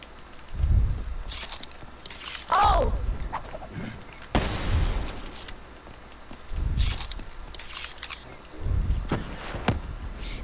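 XM-53 rocket launcher firing in a video game, several loud booming blasts with whooshing tails spaced a few seconds apart, accompanied by scattered clattering and footstep-like noises.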